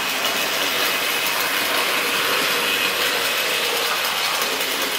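A 1975 Wrenn 002 model freight train set runs on its track, giving a steady, continuous whirring clatter with ratchet-like mechanical ticking from the vertical motor, close up and even throughout with no talking.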